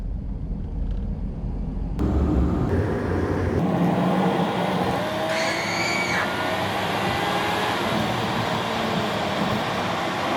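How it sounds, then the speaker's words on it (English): Car traffic on a congested road in Sedona: a steady, moderately loud engine and road rumble from a nearby vehicle with passing traffic and a brief higher whine partway through, no talking. "Did I mention the traffic in Sedona is endless?"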